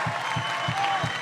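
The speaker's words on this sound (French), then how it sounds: "Mesdames et messieurs, un tonnerre d'applaudissements pour eux, s'il vous plaît" An audience at a feminist event applauds the authors, a dense and steady wash of clapping from a crowd that holds level through the short burst.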